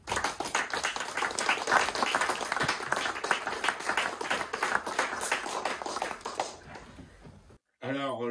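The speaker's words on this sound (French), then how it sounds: "permettez-moi de vous demander de la saluer en l'applaudissant" Sustained audience applause at an award ceremony honoring Michèle Rivasi, dense and even clapping from a large crowd that fades out near the end before a brief burst of another sound.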